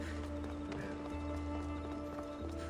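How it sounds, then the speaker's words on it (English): Horse hooves clip-clop in a steady galloping rhythm in the video game Assassin's Creed Odyssey, close and fairly loud, with a constant low engine-like drone beneath and no talking. "Horses are the best."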